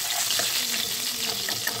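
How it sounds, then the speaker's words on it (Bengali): Katla fish pieces frying in hot oil with a steady, loud hiss and bubbling throughout, a spoon stirring and lifting the large pieces out, no speech. "এইভাবে আমরা তেল ঝরিয়ে তুলে নেব"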